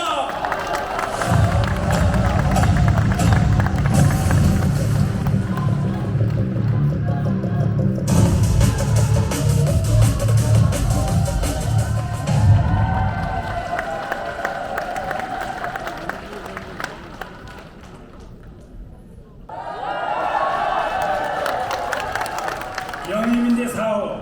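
Crowd applause and cheering at a Democratic Party political concert in Gwangju, welcoming a new recruit onstage; loud sustained clapping and shouts fill the first half, fade, then swell again near the end.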